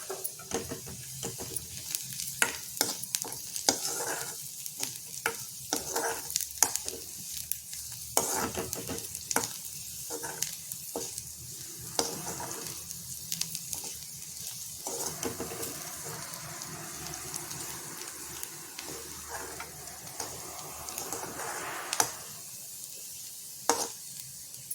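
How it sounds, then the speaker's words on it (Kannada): Cumin and sesame seeds frying with onion for a dal-free rasam crackle and sizzle close up, with frequent sharp pops and stirring scrapes over a steady hiss. "ಇವಾಗ ನಾವು ಜೀರಿಗೆ ಮತ್ತು ಎಳ್ಳನ್ನು ಹಾಕ್ಕೊಂಡು ಅದು ಸ್ವಲ್ಪ ಚಿಟ ಅನ್ನೋವರೆಗೂ ಹುರ್ಕೊಳ್ಳೋಣ."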